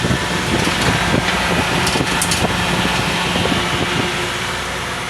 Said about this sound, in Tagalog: pasensya sa ingay dito sa aming engine kasi umandar yung aming blower